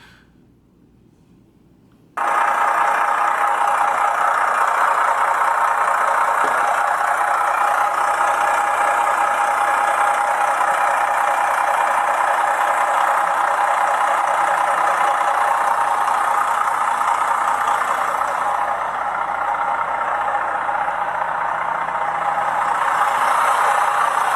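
A 2002 Freightliner Century truck sits idling, its engine giving a steady, loud, continuous rumble that starts abruptly after a short quiet moment and holds evenly to the end with no talk.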